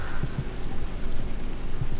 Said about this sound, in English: Can't believe it's still raining.